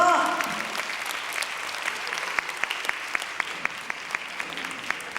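Applause from a live audience after a band finishes playing, starting loud and settling into steady clapping with sharp individual claps standing out, a voice heard briefly at the very start.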